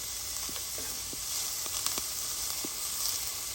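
Garlic and mushrooms sauté in a pan for a Bolognese sauce, giving a steady, close sizzle with a few faint clicks of stirring and no talk.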